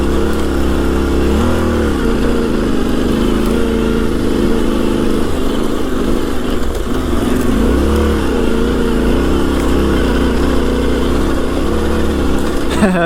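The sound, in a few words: Yamaha Tenere 700 motorcycle engine while riding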